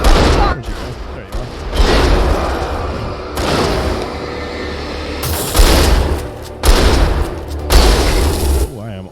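Shotgun blasts in Alan Wake 2, four heavy booming shots spaced a couple of seconds apart, loud and close, each with a decaying rumble, with someone talking in between.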